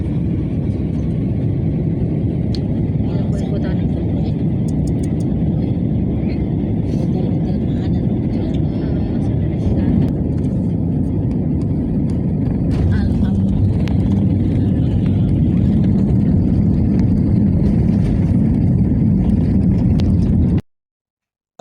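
Airliner touching down on the runway at King Abdul Aziz International Airport in Jeddah, a loud, constant cabin roar of engines and rolling wheels that continues steadily for about twenty seconds and then stops abruptly.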